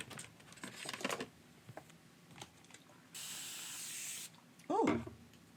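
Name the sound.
spraying shimmer spray on a card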